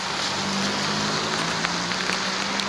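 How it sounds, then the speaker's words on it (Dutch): Steady rain falls in wet, miserable weather, a dense even hiss of drops with faint patters close by, continuous and fairly loud throughout. "Heerlijk, regen."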